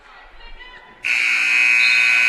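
After a moment of muffled background noise at a high school wrestling match, a loud, sustained electronic period-end buzzer suddenly sounds and keeps blaring to the end.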